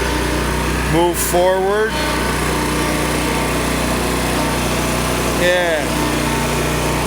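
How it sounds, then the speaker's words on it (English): Ride-on lawn mower engine running steadily at about half throttle on grass, a constant mechanical drone throughout with someone talking briefly over it. "now at about half throttle, once the mower's warmed up"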